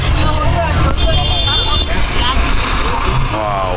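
A boat on a haor wetland trip near Chouddagram, Cumilla runs with a loud, steady motor rumble and water noise, with people talking over it throughout.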